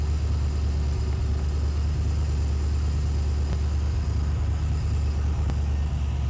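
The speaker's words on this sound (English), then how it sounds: "So now that the engine's running" A car engine idles steadily at close range during an ignition timing check, a constant low hum and rumble with faint ticks and no talk.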